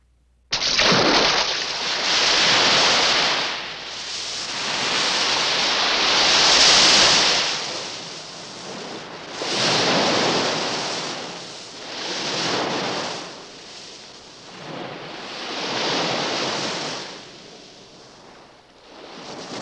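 Waves breaking on the beach at the Dieppe seaside resort, surf rising and falling in slow repeated surges, loud and close with wind, no voices.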